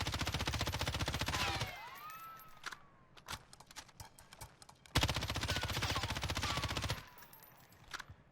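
M13 rifle fired with attachments in Warzone, two long rapid-fire automatic bursts of close, loud gunshots with shell-casing tinkles and clicks in the pauses between.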